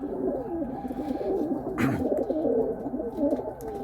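Pigeons coo in a pigeon loft, several soft, rolling calls overlapping continuously close by, with a brief rustle of wings in the middle.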